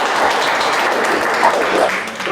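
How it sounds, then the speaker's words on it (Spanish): Church congregation at a Spanish-language sermon gives a strong, continuous round of applause, dense and sustained, with a few faint voices mixed in. "denle fuerte el aplauso a nuestro Dios"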